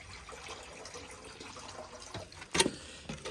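Fresh water trickling and splashing into a pigeons' drinking container, a steady low rush with a brief louder gush near the end; no voices.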